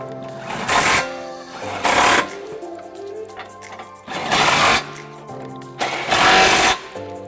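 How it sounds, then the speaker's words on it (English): Hitch bolts on a 2018 Jeep Grand Cherokee are tightened with a 21mm swivel socket, heard as four loud, close, whirring bursts of a power tool separated by quieter pauses. "now using our 21mm swivel socket, we're going to go ahead and tighten it up"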